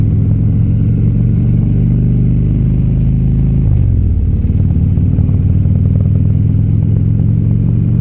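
A motorcycle idles in neutral at a traffic light, its engine putting out a loud, steady, low rumble for the whole stretch, with a short dip and shift in tone midway and no speech.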